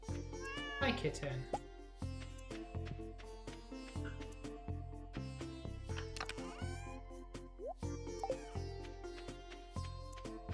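A cat in the farming game Stardew Valley gives several short meows over the game's steady, rhythmic background music, while a person talks casually throughout.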